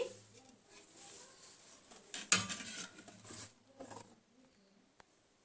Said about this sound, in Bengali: 2 মিনিট হয়ে গেছে, ঢাকাটা আমি তুলে নিচ্ছি